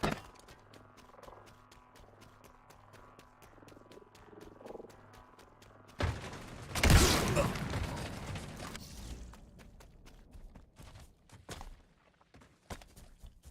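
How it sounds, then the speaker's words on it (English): Explosions from the video game Halo during a Helm's Deep wall-breaching build: a loud, broadband blast bursts out mid-clip and fades into rumbling debris, preceded by quiet rhythmic ticking and croaking ambience. "I love how each explosion is slightly different."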